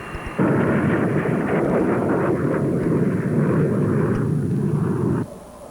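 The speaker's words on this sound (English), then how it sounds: "The F-14 versus the T-38 is a lesson in defensive maneuvering." An F-14 and a T-38 jet flying a defensive maneuvering exercise produce a loud, sustained jet roar that starts abruptly, holds for about five seconds and then drops away, with no voices heard.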